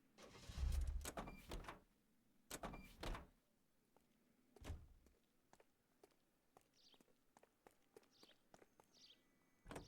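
A car's rear-hinged suicide door opens in L.A. Noire, giving a few sharp, heavy clunks and thuds followed by softer mechanical clicks in a quiet setting, with no speech.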